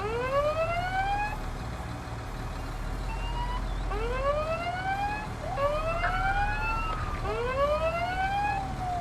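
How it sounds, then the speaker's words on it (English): Alarm sirens wail in a farming video game with rising, sweeping tones that repeat and overlap several times over a low steady rumble, loud and close. "Oh my gosh, the alarms are sounding."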